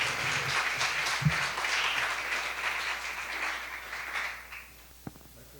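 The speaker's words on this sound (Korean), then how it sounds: "박수로 환영해 주시겠습니다." A church congregation applauds to welcome a pastor to the pulpit, a steady wash of clapping from many hands that tapers off, followed by a lone thump.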